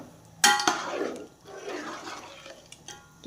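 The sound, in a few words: water poured into pot of soaked rice for chicken pulao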